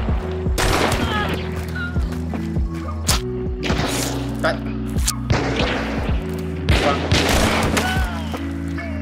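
Repeated gunshots in the Hunt: Showdown video game crack and boom in quick clusters, loud and close, mixed with in-game ambience and players' voices talking over the firing.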